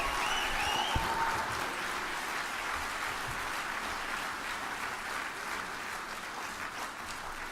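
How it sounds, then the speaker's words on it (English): Conference audience applause filling a large room, a steady wash of many hands clapping at a distance that holds for several seconds and slowly fades a little, faint and without clear speech. "Give him another round of applause, y'all"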